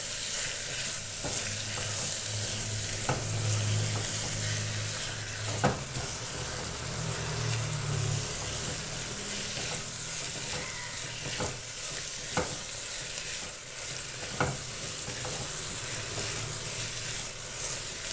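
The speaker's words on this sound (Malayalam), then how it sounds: "നല്ലപോലെ വഴറ്റുക." Slit green chillies sauté in hot oil in a pan for kadala curry, giving a steady, close sizzle with occasional sharp stirring clicks and no voices.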